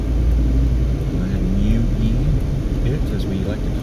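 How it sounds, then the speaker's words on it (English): Cars pass along a Las Vegas street with a steady, close road rumble and tire hiss that swells and fades over a few seconds. "Go ahead and wait for these cars to go by"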